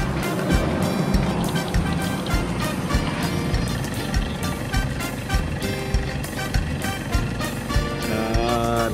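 A loud car engine runs steadily, its exhaust rumbling in a dense, continuous drone with rhythmic pulses throughout.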